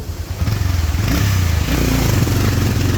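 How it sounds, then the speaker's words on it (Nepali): A motorcycle engine revs hard and close, its loud rumbling growl rising and surging, with some clattering and scraping mixed in. "हेर है भित्ते तेरो बाइक कति बटार्दैछ।"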